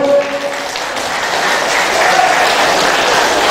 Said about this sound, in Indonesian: berikan aplaus untuk mereka semua